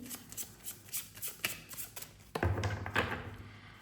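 Tarot cards riffle and flick close by in a quick series of soft papery shuffles and taps, then a denser burst of card handling as cards are drawn, with no talking.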